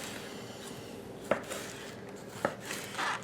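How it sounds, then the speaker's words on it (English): A knife slices thinly through a medium head of cabbage on a cutting board, giving a few sparse, soft chopping taps at a quiet, close level. "So I'm going to slice this medium head of cabbage very thin"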